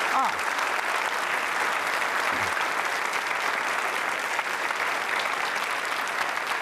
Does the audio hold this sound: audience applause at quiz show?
yes